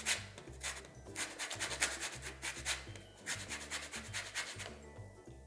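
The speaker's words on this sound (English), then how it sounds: "I've got a large orange here, so I'm going to grate in about 3/4 of it" A large orange is grated for the zest going into a chocolate carrot cake, making quick, close rasping strokes in steady bursts that fade out at the end.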